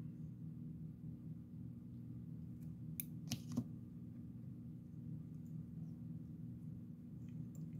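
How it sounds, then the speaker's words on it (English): Scissors snip through furry foam while a dragonfly nymph fly is being tied: two or three quick, crisp snips close together over a steady low background hum. "And just cut off your furry foam."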